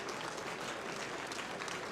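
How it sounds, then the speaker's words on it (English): Applause at an industry award ceremony, a dense, even wash of clapping from the audience that holds steady throughout. "Let's give a round of applause for a new young startup in our industry."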